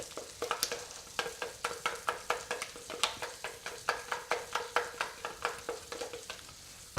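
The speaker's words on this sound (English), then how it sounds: "We'll give the burgers a flick. There we go, lovely. Those babies are cooking nice." Burger patties fry in a pan with a quiet, steady sizzle, while rhythmic scraping strokes from a utensil repeat about three times a second.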